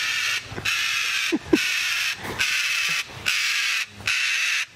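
A large bird at a zoo gives loud, harsh calls in several separate bursts over a steady bright background hum, close by with no talking.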